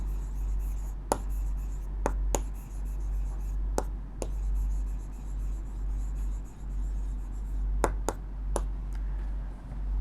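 Pen or marker writing a maths equation on a surface, producing a series of short scratchy strokes and taps at irregular intervals over a steady low background hum, no talk.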